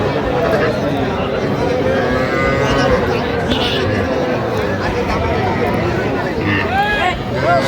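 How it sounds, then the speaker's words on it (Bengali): A young bull calf moos repeatedly at a cattle market in Jamalpur, loud and near, over constant crowd chatter and people talking. "ষাঁড় বাচ্চা"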